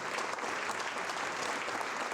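Audience at a school's State of the School presentation gives the board of directors a round of applause, a dense, even burst of clapping throughout.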